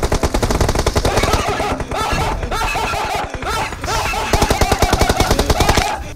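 Rapid bursts of MG3 machine gun fire in PUBG Mobile, loud and close, with dense rattling shots and brief breaks between volleys, game sounds underneath and no talk heard.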